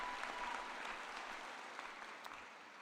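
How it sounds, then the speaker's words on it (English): An audience at a university graduate commencement ceremony gives a round of applause: dense, continuous clapping from a large crowd, fairly distant and softening gradually toward the end. "Let's hear another round of applause for Martha Jalemis, please."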